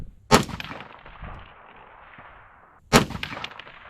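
Two rifle shots fired at a steel target 460 yards away, each a sharp crack with a short echoing tail, spaced about two and a half seconds apart outdoors.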